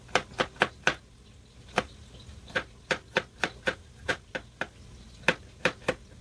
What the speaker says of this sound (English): that's why I'm taking my time to cut these, and of course using a chopping board